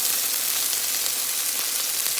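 A Beyond Sausage fries and browns in a pan with a steady, close, even sizzle that holds without a break.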